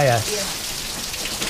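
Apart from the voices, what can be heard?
torrential typhoon rain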